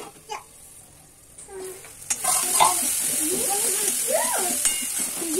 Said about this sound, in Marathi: हे सगळं चांगलं ट्रान्सपरंट होईपर्यंत आणि टोमॅटो फुल तेलामध्ये मेल्ट होईपर्यंत भाजून घ्यायचं आहे.